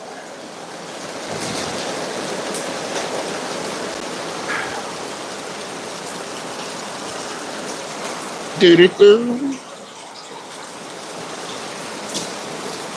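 Steady rain patters and hisses throughout, a broad wash of drops on surfaces, while a voice briefly hums a few notes partway through.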